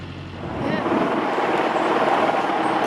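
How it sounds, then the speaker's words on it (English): A steady, droning police helicopter rotor overhead near Knottingley, fairly loud and continuous throughout, with faint background voices underneath. "Sounds like there's a police helicopter over Knottingley."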